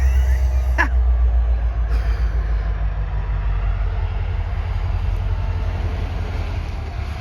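CN 5405 freight train rolling through the Pembine crossing, a steady loud low rumble of wagons and wind noise continuing throughout, with a brief sharp screech or clank near the start.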